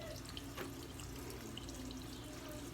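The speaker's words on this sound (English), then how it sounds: "So I'm going to add just a little bit more water." Water runs steadily into a shaving lather bowl, a soft continuous trickle with small splashes, faint and close, with no talking.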